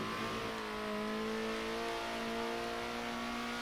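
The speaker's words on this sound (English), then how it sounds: "Sounds of the cars are lovely." Race car engines from the Circuit Superstars racing game whine steadily, with a rising, sustained high-pitched tone as the cars accelerate around the track, close and continuous with no talk.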